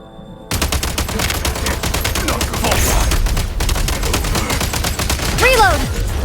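Gunfire from the assault function in Genshin Impact, a continuous loud stream of rapid automatic shots lasting several seconds, with a brief whistling effect near the end and a voice speaking under it.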